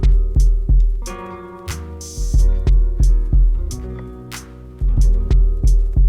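A punchy 808-style drum loop from a filtered loop sample pack, steady kicks and snappy hits repeating in a tight groove, loud and upfront with a brief filtered swell midway and no voices.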